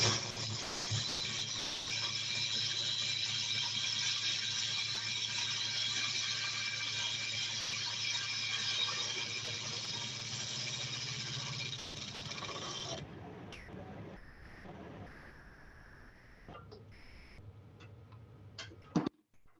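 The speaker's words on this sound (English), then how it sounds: "I'm using a bowl gouge, and it has the David Ellsworth grind on it to do that." A bowl gouge with a David Ellsworth grind cuts wood on a lathe for a staved bead box, a steady loud whirring scrape that runs unbroken, then stops abruptly, leaving quieter scattered knocks and clicks.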